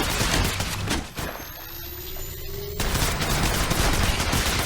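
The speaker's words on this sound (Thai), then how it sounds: "ฟังนะฉันกำลังถูกยิงใส่" Sustained bursts of gunfire aimed at the player in Apex Legends Mobile, loud and close, with a brief lull in the middle before the rapid shots resume.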